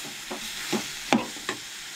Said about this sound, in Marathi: सोय पळयात हे सगळें भाजून घ्या बरें